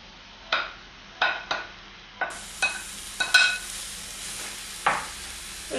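Thinly sliced meat for iskender hits a hot pan over high heat with peppers, giving a sharp sizzle and a series of scraping stirs that come every second or so, close and fairly quiet.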